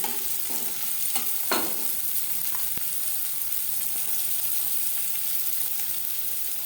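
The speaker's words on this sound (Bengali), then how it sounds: "পেঁয়াজ লালচে করে ভেজে নেব।" Chopped onion and green chilies fry in hot oil in a pan, a continuous close sizzle broken by a few stirring scrapes and a sharp tap of the spatula near the middle, with no talking.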